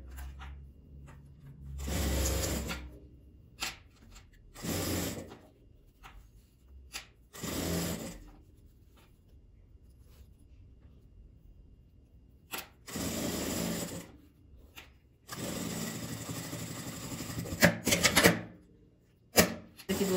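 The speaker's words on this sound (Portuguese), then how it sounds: "E vou passar a costura fechando." Sewing machine stitching a closing seam on a unisex document wallet, in several separate bursts of a few seconds each with quiet pauses between, close and fairly loud with no talk over it.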